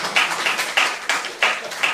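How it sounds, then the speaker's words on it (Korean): A church congregation claps together, rhythmic unison handclaps with sharp, evenly spaced beats at close range. "박수 한번 쳐주세요"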